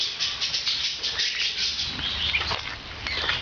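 Parrots in a park aviary, wings flapping and fluttering in quick bursts with scattered chirps, close by and fairly loud, no talking.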